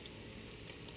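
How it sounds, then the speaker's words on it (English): Chopped onion sizzles steadily in a hot pan with bacon fat as a comfort soup gets started. The frying hiss is soft, even and constant, with no talking. "now I'm going to add in the onion"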